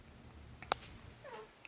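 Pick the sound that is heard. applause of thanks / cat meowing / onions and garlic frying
cat meowing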